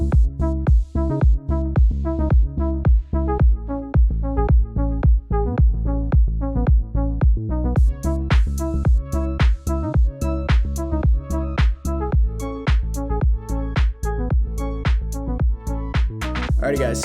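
A saucy house lead synth, built in Serum, plays a bouncy, rhythmic pattern of short plucked notes over a steady beat that fills out further partway through, loud and alone.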